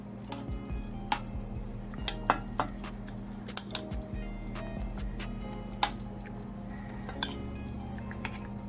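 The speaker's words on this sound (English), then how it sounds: "Now you're gonna add the breadfruit." Breadfruit is added to a pot of saltfish rundown: sharp metal spoon clinks against the pot come at irregular intervals over a low, quiet background, with soft wet squishing between them.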